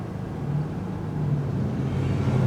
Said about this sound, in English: Red and silver with an exhaust leak.